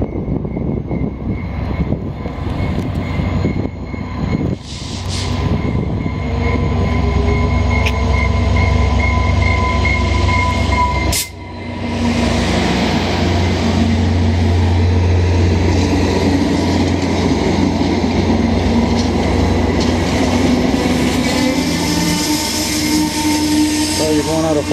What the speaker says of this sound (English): there's nothing like trains at dusk